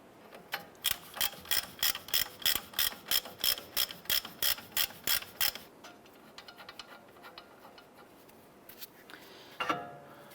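Ratchet wrench loosening the upper suspension nut on a 2011-2018 Ram 1500 during wheel bearing and hub replacement: about fifteen rapid, evenly spaced metallic clicks up close, then a pause, softer scattered clicks and a brief clatter near the end.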